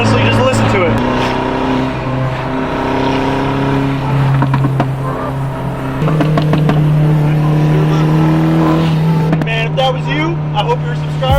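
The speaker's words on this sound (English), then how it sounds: "Nothing like getting this car in a boost, honestly. Just listen to it." A turbocharged car accelerates hard under boost, its engine loud and close, droning steadily and climbing in pitch through several quick gear shifts over about eleven seconds.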